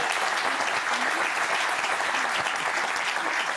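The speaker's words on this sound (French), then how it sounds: "J'aimerais qu'on l'applaudisse." A studio audience breaks into loud, dense applause, with sustained clapping that holds at an even level for a few seconds.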